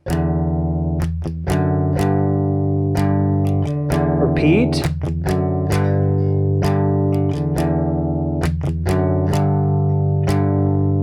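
Distorted electric guitar chugs out a power chord riff on the 6th string, with short palm-muted strums punctuating the sustained chords. It is loud and close, and a brief spoken word breaks in midway.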